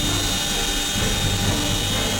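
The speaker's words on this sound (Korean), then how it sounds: "드디어 고공강화팀 수송헬기가 나타났습니다." A military transport helicopter carrying a special forces parachute team arrives, its rotor and engine giving a steady, loud, continuous roar that fills the whole moment with no voices.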